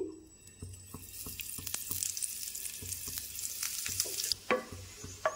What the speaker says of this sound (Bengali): এবার আমি এপাশ ওপাশ করে পরোটাটা ভেজে নেব।